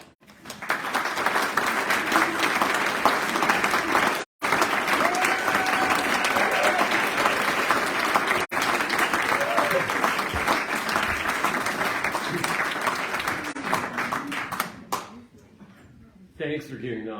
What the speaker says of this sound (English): Thanks for giving the authors, the writers, applause.